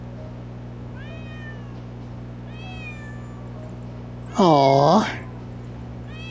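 A cat gives a few soft, rising meows, then one loud, close, drawn-out meow, with a person's brief voice and a steady hum behind.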